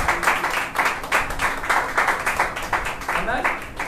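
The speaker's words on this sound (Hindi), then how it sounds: "तो एक जोरदार ताली के द्वारा प्रभु को धन्यवाद दें" A congregation at a fasting prayer service claps hard in thanks to God, a dense, rhythmic crowd applause running the whole time, loud and close, with voices mixed in beneath the clapping.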